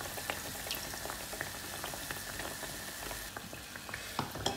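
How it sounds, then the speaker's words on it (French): A tuna-filled sandwich pakoda frying in hot oil, bubbling and crackling in a steady, dense sizzle heard up close, with small pops scattered throughout. "je viens mettre ça dans l'huile chaude"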